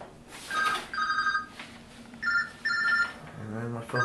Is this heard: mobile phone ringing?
yes